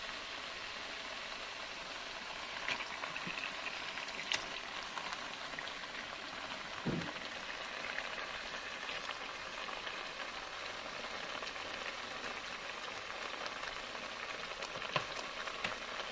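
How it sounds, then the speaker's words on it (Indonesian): Soft, steady sizzling and crackling of chicken sautéing with spices in a pan, continuous and fairly quiet, with an occasional clink of a utensil. "Tumis ayam hingga bumbu meresap."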